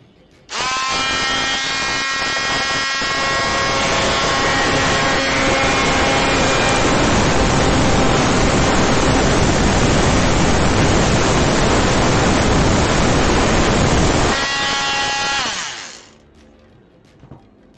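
Jigsaw cutting a scifi prop, running loud and continuous for about fourteen seconds with a steady harsh buzzing whine, then winding down and stopping.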